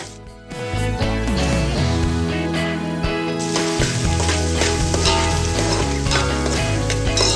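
Whole garam masala and shahjeera frying in oil in a pan, a dense continuous sizzle with occasional pops, growing brighter partway through, close and loud with no voice.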